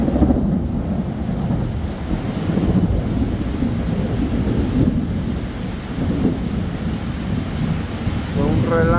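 Heavy rain pours steadily with rolling thunder rumbling throughout a strong thunderstorm in Chalatenango, El Salvador, the downpour loud and unbroken.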